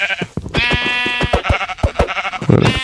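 Sheep in the Minecraft video game bleat near and loud in a spruce forest survival world, several wavering bleats over three seconds broken up by short thumping hits.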